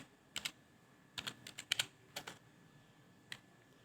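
Keys clacking on a computer keyboard during coding, a quiet burst of scattered taps followed by a couple of isolated keystrokes with short pauses between.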